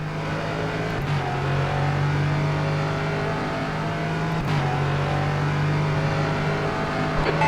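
Steady, loud engine drone of a Norma M30 LMP3 race car at Interlagos in rFactor 2, holding a constant pitch with brief dips at gear changes, no talking.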